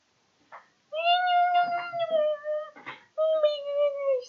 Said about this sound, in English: this is a nice cat, not gonna lie.